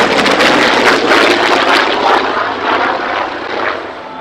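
A propeller-driven warbird aircraft, such as a P-51, Yak-11 or F8F, roars past overhead, loud and close, with the engine drone swelling and then slowly fading.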